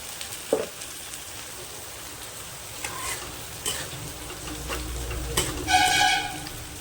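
Ground sesame paste frying in a hot pan and being stirred, a soft steady sizzle with scraping stirs and light clinks of the spoon, close up and without speech.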